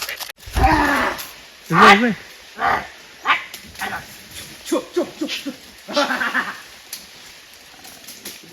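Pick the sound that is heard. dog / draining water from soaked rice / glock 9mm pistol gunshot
dog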